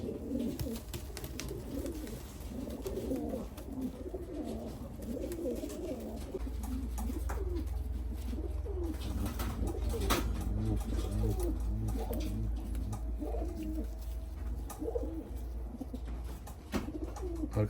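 Pigeons coo steadily in soft rolling phrases, several birds close by, with a low background hum and faint clatter.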